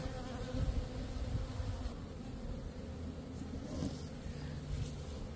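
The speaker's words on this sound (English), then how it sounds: "So don't shake the bees off here." Steady droning buzz of many honey bees close by at a queen-rearing hive, a dense continuous hum with individual bees passing near.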